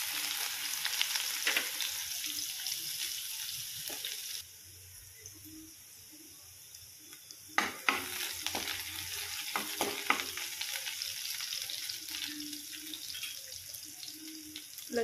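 Onion and cumin seeds sizzle steadily in a pan as a dish of kartulya (spiny gourd) gets its base, with a near, continuous hiss broken by the scrapes and knocks of stirring, all without any voices.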